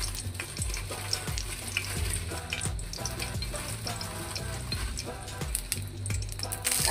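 Dried red chillies sizzle in hot oil with a little water in the pan, giving a steady crackling fry with occasional stirring clicks and spatters, close and fairly quiet.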